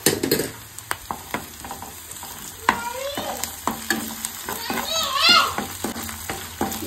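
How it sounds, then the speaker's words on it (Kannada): Ginger garlic paste frying in a pan for a prawn fry, a close, steady sizzle with repeated scraping stirs of a spoon, while children's voices chatter in the background. "ನೆಕ್ಸ್ಟು ಶುಂಠಿ ಬೆಳ್ಳುಳ್ಳಿ ಪೇಸ್ಟ್ ಹಾಕೊತಾ ಇದ್ದೀನಿ 1 ಸ್ಪೂನ್ ಆಗೋಷ್ಟು."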